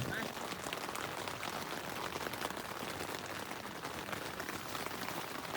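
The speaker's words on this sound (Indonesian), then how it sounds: "masih hujan" Steady rain falls during a night on a Mount Merbabu hike via the Swanting route in Indonesia, a dense even hiss with no gaps and no talk.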